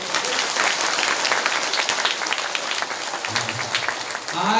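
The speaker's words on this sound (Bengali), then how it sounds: "এই জন্য এদের জন্য খুব জোরে তালি বাজাও।" A devotional gathering at a Srimad Bhagwat saptah in Assam breaks into dense, sustained clapping from a large audience. It runs steadily throughout and swells slightly at the end, where a voice briefly starts.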